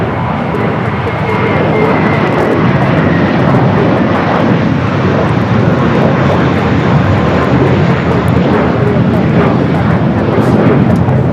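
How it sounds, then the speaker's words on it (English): A China Airlines cargo Boeing 777 freighter jet roars loudly and steadily throughout at close range, a broad, sustained engine rumble with a hissing edge near an airport. "China Airlines cargo, flight 5137 heading to Taipei, a 777 freighter heading to the 25s."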